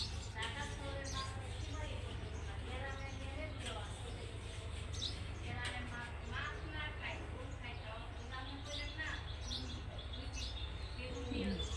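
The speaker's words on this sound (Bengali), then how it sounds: "এই যে পাখি শব্দ পাচ্ছেন শব্দ পাচ্ছেন না" Morning birds chirp and tweet near a home in a steady run of short calls over a constant low background hum, while a person talks throughout.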